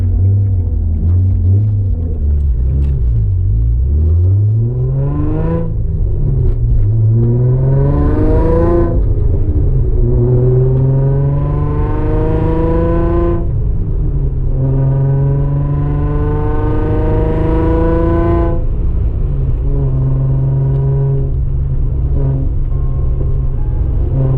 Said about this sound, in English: Car started up.